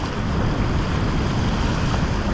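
Strong sea waves churning after a typhoon at a shoreline fishing spot make a steady, loud, unbroken roar with wind buffeting the microphone, and no voices.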